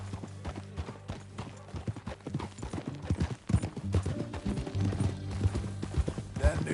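Horse hooves clip-clop steadily while riding in Red Dead Redemption 2, a rhythmic trotting beat blended with game music and occasional voices talking over it.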